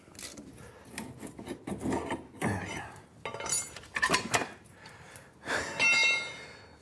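Rusted shock absorber bolts being worked free on an MG B bring close, intermittent bursts of metallic scraping, rasping and clinking, separated by brief quiet gaps.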